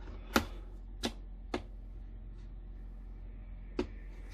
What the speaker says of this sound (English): just turn it back until you hear that click, so the threads drop back into the original